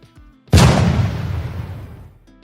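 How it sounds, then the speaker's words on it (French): A sudden loud blast erupts, followed by a long rumbling decay that fades over a couple of seconds. "des explosions et des sifflements se font entendre"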